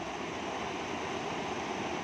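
A flooded river rushes past in a steady, dense roar of flowing water, constant and fairly distant with no break, heard alone without voices.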